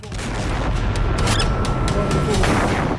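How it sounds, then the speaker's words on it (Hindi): A large explosion from an attack on an Israeli Merkava tank in Jabalia, Gaza, a sustained loud roaring blast that fills the whole clip with dense broadband rumble and crackle. "चंद सेकंड के बाद होता है बड़ा धमाका।"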